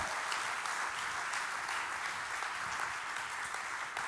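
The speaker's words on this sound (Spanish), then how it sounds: "Le da aplausos" A church congregation gives steady, even applause at a Sunday service, faint and distant, holding at a constant level with no voices over it.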